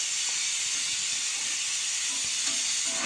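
Chopped tomatoes and onions roast in a hot pan, giving a loud, continuous hiss of steam and sizzle close by, with a few faint scrapes and no talking.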